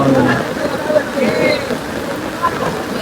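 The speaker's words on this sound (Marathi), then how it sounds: "आणि कंटिन्यू पाऊस पडतो, कंटिन्यू." Steady rain patters continuously in the background during a crowded Ganesh arrival procession in Mumbai, with faint voices murmuring underneath.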